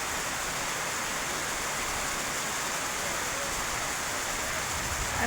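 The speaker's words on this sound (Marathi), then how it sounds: "या वर्षाचा पहिलाच पाऊस आणि तुमच्याकडं पडत आहे का हे पण सांगा" Heavy first-of-season monsoon rain falls in a continuous, even roar of dense spattering, near and loud with no pauses from start to finish.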